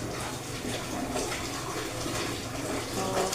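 Hot water runs steadily during a bath, a continuous close hiss and splash of flowing water with no pauses and no voices.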